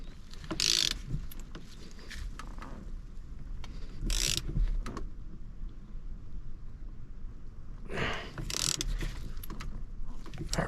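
A ratchet tightens a steering wheel nut in a GM car, making three short, quiet clicking bursts spaced a few seconds apart against a faint background.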